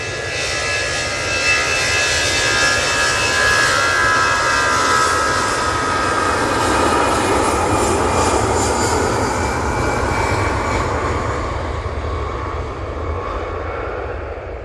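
EasyJet airliner at Manchester Airport with its jet engines roaring loud and steady for a long stretch, easing slightly at the end, with no voices.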